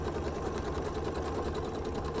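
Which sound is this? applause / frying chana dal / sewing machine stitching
sewing machine stitching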